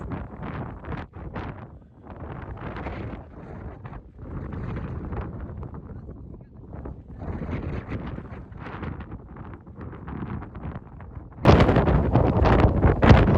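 Wind buffets the microphone in rough, uneven gusts, rising to a louder, harsher rush near the end.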